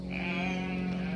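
A single sheep bleats in one drawn-out, wavering call, close and fairly clear.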